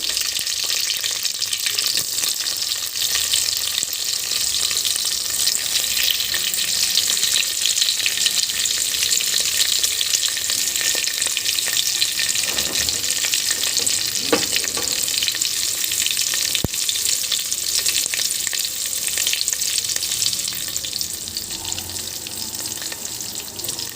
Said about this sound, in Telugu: కోస్త వేగనిద్దాము ఉల్లిగడ్డలు